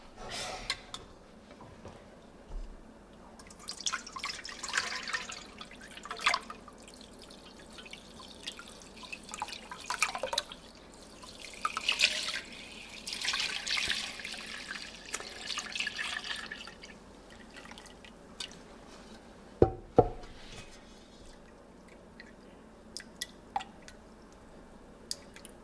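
Prime rib bone broth strains through a wet cloth, giving quiet, irregular drips and soft squishy trickles, with a few sharper ticks and faint background noise throughout.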